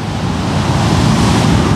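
Ocean surf rolls in on Kuta Beach, Bali, a loud, continuous roar of breaking waves mixed with buffeting wind noise, with nobody speaking.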